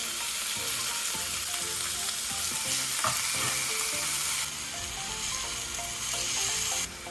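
Beef frying in a pan with sautéed garlic for a garlic pepper beef dish, a steady close sizzle with stirring and scraping of the utensil, continuous and even throughout.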